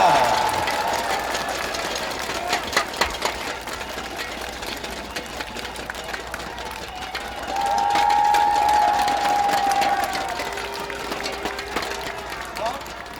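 A political rally crowd in Daegu applauding and cheering for the Democratic Party leader, a broad roar of claps and shouts filling the air beneath an amplified voice.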